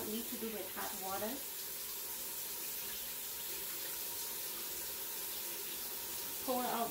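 Room-temperature water runs steadily as sticky rice is washed, a constant close splashing stream, with a voice speaking briefly at the start and again at the end.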